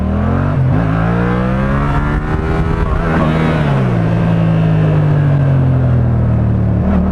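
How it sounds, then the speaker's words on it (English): A Yamaha MT-07 motorcycle pulls first gear power wheelies uphill, its engine loud and close, rumbling and revving up with a dip and rise in pitch partway through, alone without talk. "So I'll do a few first gear power wheelies uphill, just to get my balance point a lot easier."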